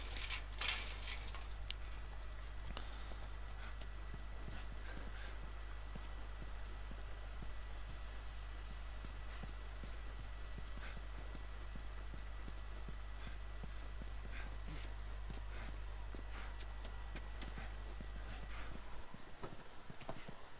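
Steady clip-clop of horse hooves trotting continuously over a loud droning background hum, with no voices, in the video game The Last of Us.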